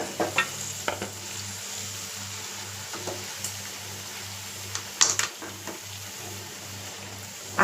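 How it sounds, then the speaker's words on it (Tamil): Carrots, beans, drumsticks and radish sauté in a pan with a steady, moderate sizzle, broken by occasional clinks and scrapes of a stirring spoon, all under a low, constant hum. "கேரட்டு, பீன்ஸு, முருங்கைக்காய் எல்லா காயும் போட்டு நம்ம வதக்குவோம்"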